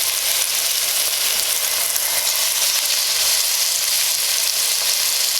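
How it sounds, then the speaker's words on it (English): Beef short ribs are seared meaty side down in a Le Creuset Dutch oven, giving a loud, steady, continuous sizzle of hot fat with no break and no talking. "Get a nice good sizzle going there."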